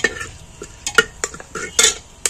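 A spoon stirs bay leaves, cardamom, cloves and cinnamon in a cooking pot for mutton, giving several sharp, close metallic clinks and scrapes in an irregular rhythm, with no talking.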